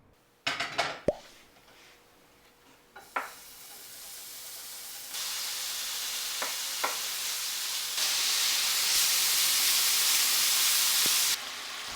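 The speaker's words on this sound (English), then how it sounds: "Now it's time to add the bacon to the pan." Bacon strips sizzling in a hot pan for maple bacon bourbon jam: a few clanks and thumps as the meat goes in, then a steady broadband hiss that swells louder partway through and holds, with no talking.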